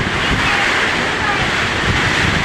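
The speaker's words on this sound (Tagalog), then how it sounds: "medyo maputi ang hangin at ulan dito sa aming barangay" Steady roaring wind with dense broadband noise of driving rain from Typhoon Aghon, loud and continuous throughout, buffeting the microphone.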